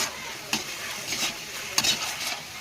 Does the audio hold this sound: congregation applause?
no